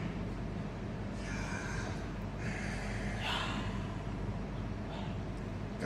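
Deep breathing in and out demonstrated by a man during a concert talk: slow, airy breaths over a loud, steady background hum, with no talk.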